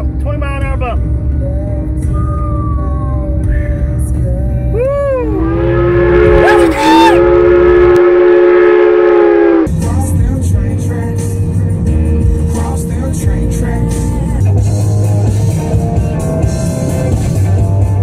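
A train passes with its horn sounding in a long sustained blast over a steady rumble, loud and close, with people talking nearby.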